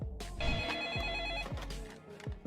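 A telephone rings after a call is placed to the electricity company, a trilling electronic ring tone repeating in bursts, fairly faint, with light background noise.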